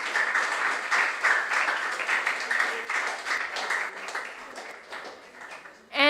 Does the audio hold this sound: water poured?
no